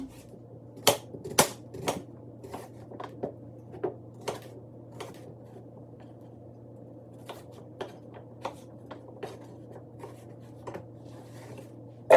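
A knife chops washed potatoes on a cutting board for potato soup, giving sharp, irregular clicks and taps at a moderate distance with gaps between strokes, over a low steady hum.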